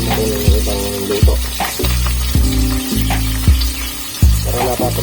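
Food fries in a pan with a steady, close sizzle, broken by regular thumping knocks roughly every second as it is stirred, while faint talk sits underneath.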